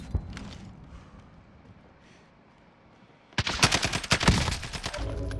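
Automatic gunfire in Call of Duty Warzone, a sudden dense burst of rapid shots erupting after a quieter stretch of low rumble, close and loud for the final two seconds.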